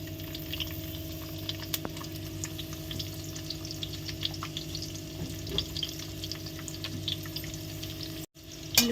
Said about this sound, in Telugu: ఉల్లిపాయలు చక్కగా ఫ్రై చేసేసుకోవాలి